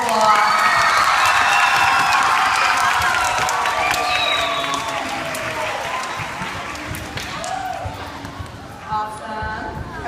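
At a school talent show, a crowd of children and adults claps, cheers and shouts loudly for the principal, with excited voices over the clapping before the noise slowly fades.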